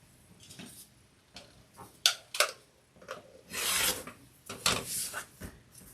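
A rotary cutter slices through a stack of pieced quilt blocks in short rasping strokes and scrapes, with scattered clicks and taps between cuts, quiet and close, with no talking.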